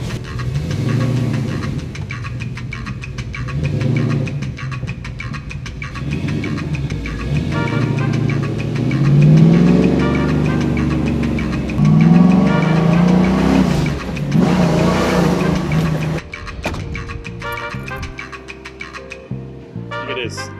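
A 1967 GT convertible's engine running loud and close, a rough rumble that rises in pitch through several revving sweeps before settling back down.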